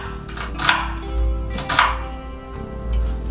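A knife chops onions into small pieces on a board, a few crisp, close cuts spaced irregularly over a low steady hum.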